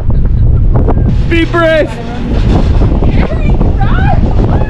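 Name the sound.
wind blowing at a campsite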